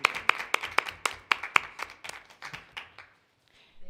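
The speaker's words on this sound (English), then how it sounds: "I think we should applaud him for" Meeting attendees applaud at a school board committee session, a run of sharp, distinct hand claps that thins out and stops after about three seconds, fairly close and moderately loud.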